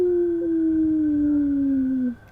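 A single long, wavering howl in the manner of a wolf, loud and close, gliding slowly downward before cutting off; a human voice imitating the call.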